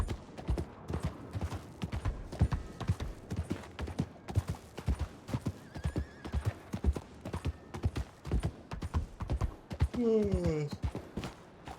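Many horses clip-clopping in Red Dead Redemption 2 roleplay, a dense, continuous patter of overlapping hoofbeats close by, with one horse letting out a short whinny near the end.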